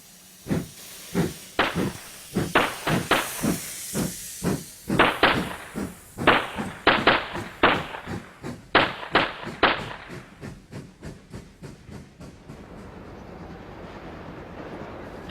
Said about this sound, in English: the last scheduled departure was sent on its way amidst a barrage of exploding detonators